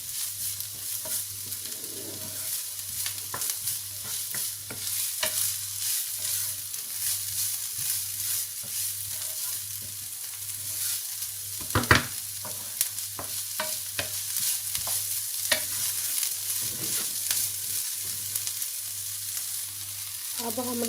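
Vegetables with peas frying in a pan for a spring roll filling, a soft continuous sizzle with occasional scraping stirs, one sharper clatter midway, close and fairly quiet with no talk.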